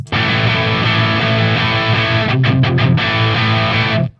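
An EarthQuaker Devices Zoar distortion pedal on electric guitar gives a loud, thick, sustained distorted chord tone, cut by a few quick stutters midway before ringing out and stopping abruptly, with no voices.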